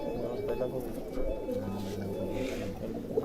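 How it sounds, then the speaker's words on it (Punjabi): Soft, low pigeon coos repeat in short rolling phrases against a quiet outdoor background with some faint voices nearby. "ਆ ਕਬੂਤਰ ਆ ਜੀ ਆਪਣਾ ਇਹ ਕਬੂਤਰ"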